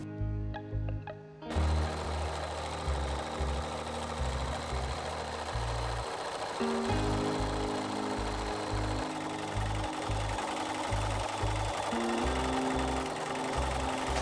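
A sewing machine quilts fabric for a table runner, starting after a quiet moment and then running as a continuous close, mechanical whirr with a steady rapid stitching rhythm.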